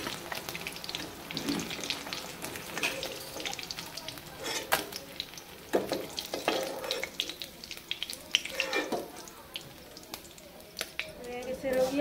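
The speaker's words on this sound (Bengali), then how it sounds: "মাছ ভাজাটা এরকম হয়ে যাওয়ার পরে, এরকম লাল লাল হয়ে যাওয়ার পরে দিয়ে এখন আমরা নামিয়ে দেব" Pieces of fish, katla by the dish, fry in hot oil until reddish, a steady crackling sizzle with scraping stirs and clinks throughout, close by and moderately loud, with occasional voice.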